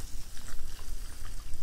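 Hot water being poured into a coffee maker, a short, steady splashing trickle of liquid heard up close with no talking.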